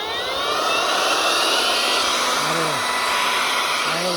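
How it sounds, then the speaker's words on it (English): A small blower used for a sawmill roars loudly and steadily at close range, a continuous high-pitched whooshing drone with slight wavering in pitch. "My little toy blower here I use for the sawmill"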